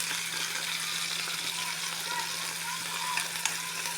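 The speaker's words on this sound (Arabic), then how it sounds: "الثوم نحمصه" Garlic toasting in a pan gives off a steady, even sizzle and crackle, fairly quiet and continuous, with no talking over it.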